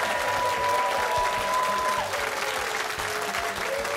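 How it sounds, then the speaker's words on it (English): A high school quiz show audience applauds the Chelmsford team with steady, dense clapping that fills the whole stretch at even loudness. "Nice round of applause for Chelmsford, please."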